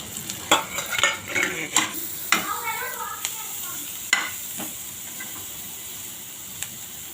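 Onions sizzling in a pan while being stirred for white sauce pasta, with a steady frying hiss under sharp scraping and clinking strokes of a utensil, busiest early and thinning out toward the end.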